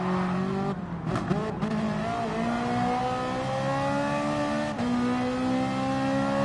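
A Ferrari race car in Gran Turismo Sport drones at steady high revs while racing an Audi TT, with gear changes shifting the engine pitch, a brief tire scrub and the note continuing loud throughout.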